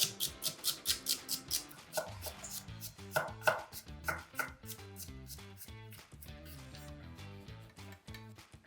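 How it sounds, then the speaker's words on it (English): A knife dices onions, celery and carrots on a board in quick, rhythmic chops, fast at first and then steadier, close and clear over soft background music. "We just want to get them all diced so they're roughly the same size."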